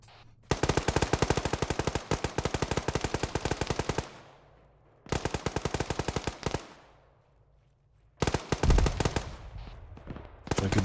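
Heavy automatic gunfire in a military shooter game, long rapid bursts of machine-gun fire, loud and close, separated by brief pauses and ending in another sustained burst.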